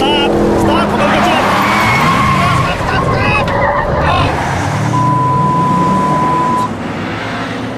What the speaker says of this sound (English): please stop the car, or at least slow down